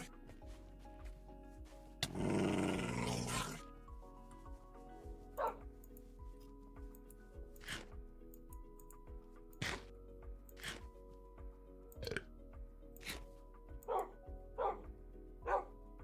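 Dogs in the video game TerraFirmaCraft bark repeatedly in short, sharp yips and bow-wows spaced across the stretch, with one brief louder burst of noise early on, over a faint steady game background.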